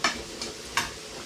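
Food in a pan is stirred and fried until the pink is cooked through, with a soft sizzle underneath three distinct scraping stir strokes, close and alone without speech.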